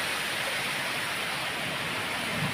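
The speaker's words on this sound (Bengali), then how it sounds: "আজকে কেমন বৃষ্টি পড়ছে আর ঝড় হচ্ছে" Rain pours during a storm, a dense, steady broadband hiss that stays even throughout with no talking.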